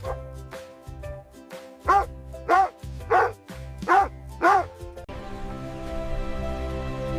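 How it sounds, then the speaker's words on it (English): A dog barks five times in an even, fairly loud series, ending in a steady, sustained bark-like sound with background music underneath throughout. "It's a dog."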